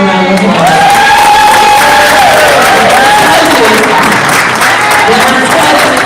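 School board meeting audience applauds Bradley Elementary School staff member Chris O'Donnell with loud, dense, steady clapping and some cheering, continuous throughout, with a voice speaking faintly over it.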